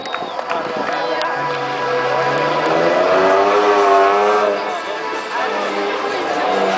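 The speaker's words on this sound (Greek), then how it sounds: "Ο Κάμπονας ο Σπύρος να έρχεται από πτυχίο, να ετοιμάζεται με ένα Mitsubishi 2000." A Mitsubishi 2000 rally car at a Lesvos time trial roars past with rising, then falling engine tone. It is loud and sustained, and a voice talks over it.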